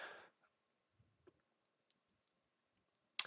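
Mouse clicks on a computer during a classroom tutorial, a couple of sharp, faint clicks at the start and end with tiny ticks between, set against near silence.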